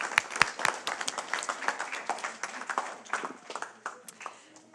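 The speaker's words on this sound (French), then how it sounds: "Je pense qu'on peut applaudir Scapin." Audience applause breaks out after a scene from Molière's Scapin in a theatre masterclass, a dense burst of clapping with sharp individual claps that gradually thins out.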